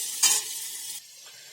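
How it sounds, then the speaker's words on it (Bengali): Potato pieces frying in a pan in a cabbage curry are stirred once with a brief scrape over a steady hiss of sizzling oil that drops off partway through. "এবার আলুগুলোকে ভালো করে ভেজে নেব"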